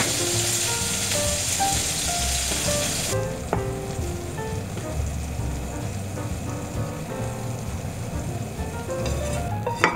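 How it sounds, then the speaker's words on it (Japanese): Leeks steam-fry in a covered pan, producing a steady, moderately loud sizzle with a soft hiss and occasional faint ticks and spatters. "合計5分蒸し焼きにし、ネギが柔らかくなって火が通ったら保存容器に取り出していきます。"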